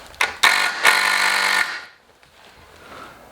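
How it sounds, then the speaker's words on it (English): A power drill with a 2-bit boring into wood while building a wooden rocket stove: a few quick revving bursts, then one sustained close whirring run of about a second that stops abruptly, followed by quiet. "I'm gonna put my drill"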